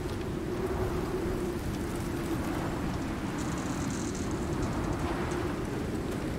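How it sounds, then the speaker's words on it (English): Thunderstorm in the survival game Icarus: steady heavy rain hisses and patters throughout, with a low rumbling undertone, continuous and enveloping with no voices. "We got a thunderstorm on this side."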